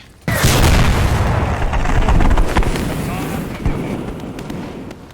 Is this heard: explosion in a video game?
yes